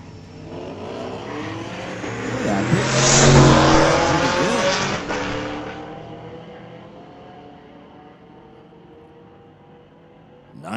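A 2001 GMC pickup and a 2017 Camaro drag racing at a street-legal drag strip, engines roaring loudly as they pass close by, the sound rising to a peak and then fading into the distance.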